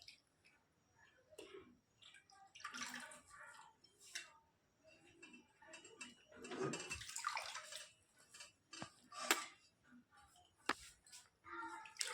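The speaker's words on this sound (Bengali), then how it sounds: "এখন আলুর গ্রেটটাকে জল দিয়ে ধুতে হবে" Grated raw potato is rinsed with water in a bowl, giving intermittent splashing and swishing bursts with small clicks and drips between them, fairly close and quiet, with no talking.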